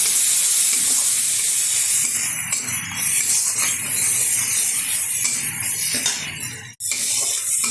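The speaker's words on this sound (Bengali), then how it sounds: "দিয়ে দেবো চিংড়ি মাছ ধুয়ে রাখা, একটু নেড়ে চেড়ে নেব।" Washed prawns frying in a pan with turmeric and a little sugar, giving a steady loud hiss and sputter close up, with faint stirring movement and a brief dip near the end, no talking.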